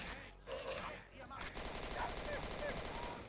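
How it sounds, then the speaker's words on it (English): Super shotgun firing in Doom 2 with the Zeppelin Armada mod, a rapid series of blasts and loud booms continuing throughout, mixed with game noise and fairly quiet overall. "And this is the super shotgun."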